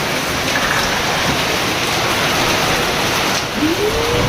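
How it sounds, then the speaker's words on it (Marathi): Heavy rain pours down steadily and loudly at a house during an unseasonal first rain of the season, a dense continuous hiss throughout with no talk. "किती जोराचा पाऊस आहे"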